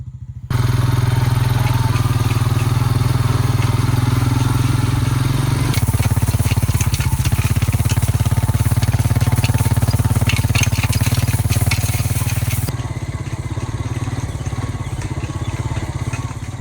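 An ATV pulls a Garvee 4' x 5' drag across a fall deer food plot, its engine droning loud and close with rattling clatter and thumps from the drag, shifting in pitch and load as it moves.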